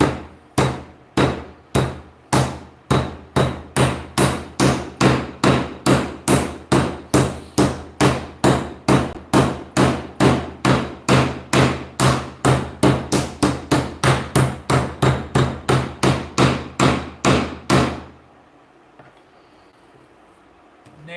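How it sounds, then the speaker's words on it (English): Steak is pounded thin with a meat mallet for pinwheel steaks, about forty sharp, loud, evenly spaced thuds in a fast steady rhythm that stop abruptly, leaving near silence. "we're going to pound it until it's about a 1/4 inch thick"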